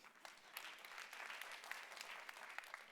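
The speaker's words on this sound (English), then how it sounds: "So give that a round of applause." An audience at a food and health summit claps, giving a faint, steady patter of many hands that stays even for a few seconds with no one speaking.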